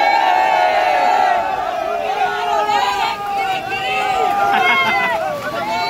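A crowd cheers and shouts at a bullock cart race during the Pola festival in Chhattisgarh, with loud, continuous hubbub and whoops throughout and a person talking over it.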